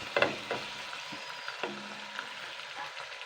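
Green peas and chickpeas drop into hot oil in a pan, a soft steady sizzle with a few light clatters and stirring scrapes, close by and fairly quiet, with no voices.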